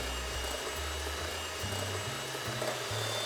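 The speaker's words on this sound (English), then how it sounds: "by giving these a really good whisk, the yolks and the sugar" Egg yolks and sugar being whisked for a classic Italian tiramisu, most likely with an electric mixer, which gives a continuous loud motorized whir with shifting low pitch and no speech.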